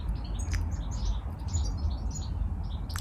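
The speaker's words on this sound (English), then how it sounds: "Listen to the birds." Small birds chirp and tweet outdoors in short, scattered high calls over a steady low rumble of background noise, fairly faint and with no voices.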